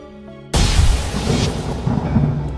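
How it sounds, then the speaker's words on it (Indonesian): Huge explosion like cannon fire in the sky, an audiobook sound effect: a sudden loud boom that bursts in at once and holds as a heavy, roaring rumble. "Kembali suara ledakan dahsyat terjadi bagaikan suara tembakan meriam di langit."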